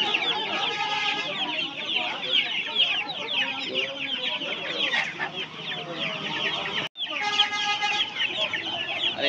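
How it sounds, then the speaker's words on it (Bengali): Young Australian chickens, about fifteen days old, cluck and cheep steadily at a busy poultry market, a dense, continuous chatter of many birds close by with little talk. "দেখুন 15 দিনের অস্ট্রেলিয়ান মুরগির বাচ্চা আছে এগুলো।"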